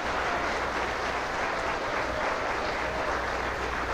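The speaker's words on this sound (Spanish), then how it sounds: "Dele un aplauso contento para Cristo." Applause from a Pentecostal church congregation fills the space for the full length, a steady, dense and loud wash of many hands clapping together with no break or change in intensity.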